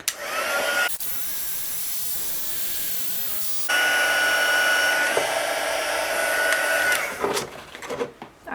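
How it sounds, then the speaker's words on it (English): A handheld heat tool blows a steady, loud airy whoosh while heat embossing a paper card, cutting out briefly near the start and stopping at the end, with a thin high whine through the middle stretch. "Alright, take a heat tool,"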